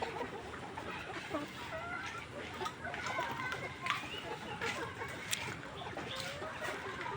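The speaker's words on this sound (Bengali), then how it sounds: "তো দেখাই যাচ্ছে মুরগিগুলো প্রফুল্ল, মুরগি খাওয়া দাওয়া করতেছে" Several poultry-farm chickens cluck and murmur nearby in a busy, continuous chorus while feeding, with scattered sharper calls and faint background voices.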